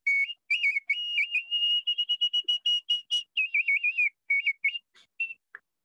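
A copper Native American flute plays a clear, breathy melody of quick trills and held notes in short phrases, close and alone, ending with brief fading notes.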